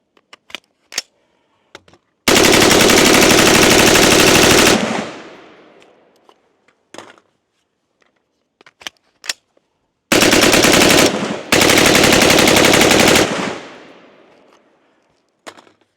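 An LWRC IC-A5 rifle fires long full-auto bursts in a barrel meltdown test, loud roaring strings of shots with scattered single cracks between bursts, sharp echoing decay after each burst outdoors.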